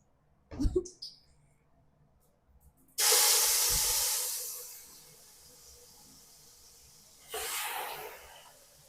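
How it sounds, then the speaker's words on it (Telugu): Chicken leg pieces dropped into hot oil in a biryani pot, giving a sudden loud sizzling hiss that fades slowly, then a second sizzle burst after a few quiet seconds, with small clatters before. "ఇప్పుడు చికెన్ పీసెస్ వేస్తున్నా"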